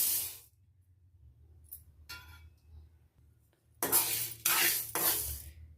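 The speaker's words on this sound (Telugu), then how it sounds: "ఇప్పుడు ఈ పెసలు అన్నది ఇందులో వేసేస్తున్నాం" Green gram (moong) tipped into a hot kadai and stirred, giving a rattling, sizzling rush at the start, brief scrapes, then three bursts of clattering grains near the end.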